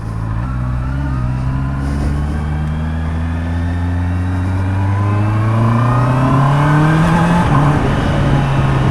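A Honda CBR650R motorcycle engine revs and climbs steadily in pitch as it accelerates, loud and close, with wind and road noise, no speech.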